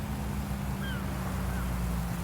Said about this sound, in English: I will start the engine because I will take the combine out of here after I finish unloading.